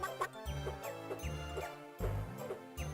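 Short clucks from chickens in the Gex 3 platformer, repeating in a steady pattern over a looping musical game soundtrack, fairly loud and with no voices.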